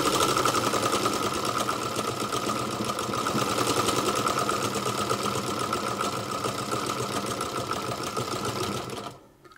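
A Singer sewing machine fitted with a buttonhole attachment (No. 86662/86718) runs continuously at close range, a loud, fast mechanical whir and rhythmic clatter that stops abruptly at the end.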